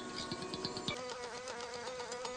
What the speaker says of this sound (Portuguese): Elas batem as asas muito mais vezes por segundo do que muitos outros insetos parecidos.